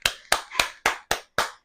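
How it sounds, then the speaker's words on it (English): Six sharp hand claps in a steady, even rhythm, loud and close, during a home glute workout session, with no talking between them. "Clap it out."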